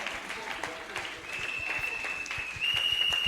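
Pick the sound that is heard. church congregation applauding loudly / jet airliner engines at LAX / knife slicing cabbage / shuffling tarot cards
church congregation applauding loudly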